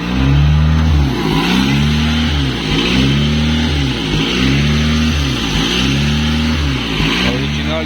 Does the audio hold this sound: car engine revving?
yes